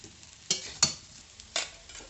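A few sharp sizzling bursts from potatoes and green bananas frying in a pan, with quieter crackle in between, close by.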